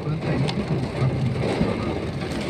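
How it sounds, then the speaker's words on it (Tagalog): Heavy rain in Jeddah pours down in a dense, continuous downpour, a steady close wash of drops drumming on surfaces with no pauses. "Hindi na tumigil. Baka mga isang oras to ulan."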